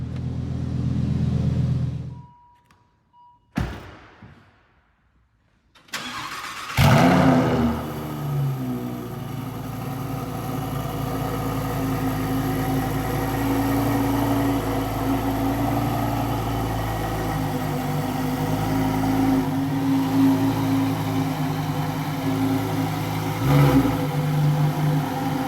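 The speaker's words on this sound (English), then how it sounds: "How do you like this Huracan STO sound?" Lamborghini Huracan STO heard from outside, its loud engine rumbling at idle after a brief quiet gap, with steady low drone and a couple of small rev swells near the end.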